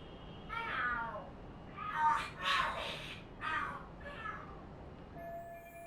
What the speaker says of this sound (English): Are there cats fighting?